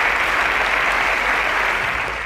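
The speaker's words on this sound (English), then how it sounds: "A round of applause for Lofty" A quiz show audience applauds a contestant at a semi-final, a steady dense wash of clapping from many hands that holds loud and even throughout before easing slightly at the end.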